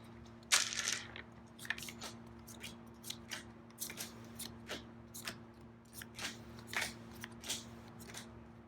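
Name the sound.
shuffling hero cards in a board game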